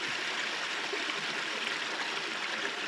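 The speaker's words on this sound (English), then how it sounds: "just a litre of water out of a nice stream like that" Wild stream water flowing steadily in a continuous rushing, bubbling wash, close and fairly loud, with no voices.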